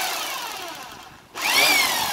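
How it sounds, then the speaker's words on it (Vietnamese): A Japanese-market electric rotary hammer, 500 watts, runs steadily and close by with a bright whirring drone, then briefly eases off before surging back to full speed. "Anh em nghe tiếng búa không?"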